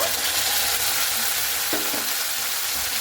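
Onion and spice paste fry in oil for a Bengali fish curry with a loud, dense, constant sizzle, close up, plus a brief stirring scrape partway through.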